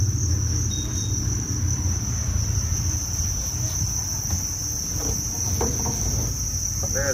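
Newly hatched crickets in a breeding bin at a cricket farm chirp in a dense, continuous high trill, steady and close, with a few faint scattered taps and no speech.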